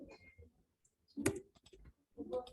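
Typing router commands on a computer keyboard, a few faint, scattered key clicks and short bursts of tapping in a quiet room.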